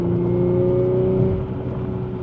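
A 2016 Audi S5 B8.5 with about 100k miles, aftermarket exhaust and test pipe upgrade, droning steadily while cruising, a loud, even engine and exhaust tone with a constant low hum heard from inside the car.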